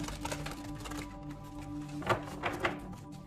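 A tarot deck is shuffled by hand. The cards give soft rapid riffling and tapping, with a few sharper knocks near the end, close up and fairly quiet.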